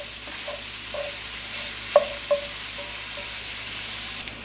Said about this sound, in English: Okay, so I broke up my ground beef really well